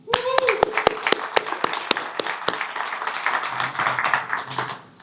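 A meeting audience breaks into applause, opening with a few crisp individual claps before swelling into fuller clapping that fades out after about five seconds.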